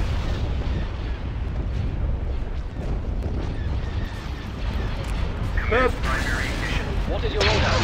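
Weapons fire on an entrance in a Star Wars space strategy game, with dense rumbling blasts and booms and sharper zaps near the end, all under a synthetic voice and spoken comments.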